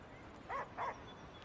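Two quick barks from a dog in the video game Wuthering Waves, faint and evenly spaced over a low background hum.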